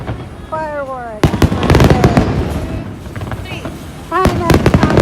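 Fireworks bursting at the Kameoka fireworks festival in Japan in August 2022, with whistling rising shells followed by loud crackling and booming explosions in rapid clusters, amid crowd noise and some talking.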